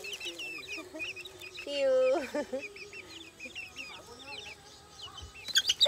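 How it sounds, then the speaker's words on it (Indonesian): Chickens in a vegetable garden clucking softly and intermittently while being walked, with small birds chirping in the background and a few short spoken words. "Lucu-lucu ayam."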